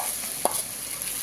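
Potatoes in hot mustard oil give a steady, soft sizzle of frying with one brief stirring clatter, no voices.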